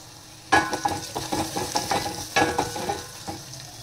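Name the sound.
stirring dal in a pot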